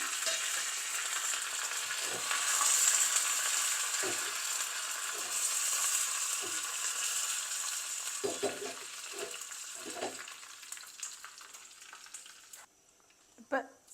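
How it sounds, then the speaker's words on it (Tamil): Dense crackling and spluttering of mustard seeds popping in hot oil, steady and close, with a few scattered thuds and stirring sounds underneath. "கடுகு சேர்க்கலாம் கடுகு பொரியுது"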